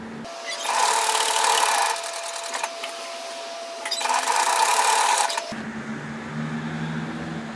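A sewing machine stitches fabric in two sustained whirring runs with a short pause between, then falls silent leaving a low hum.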